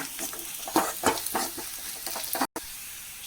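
About one and a half spoons of chilli powder sizzling in hot oil in a pan while being stirred, a steady frying hiss broken by soft scraping strokes, close and alone.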